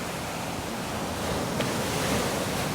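Surf waves at Kovalam Beach, Kerala, a steady broadband wash of breaking water with a slight swell toward the end, moderately loud and continuous with no voices.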